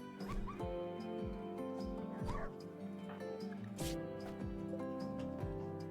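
Puppies in RimWorld bark, yip and whimper repeatedly, overlapping high cries and short yelps close up, with no speech over them.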